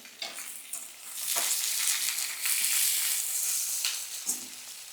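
Winter vegetables, already boiled, sizzle and fry in a pan as they are stirred, with steady crackling and hissing broken by a few scraping stirs and light clinks of the utensil.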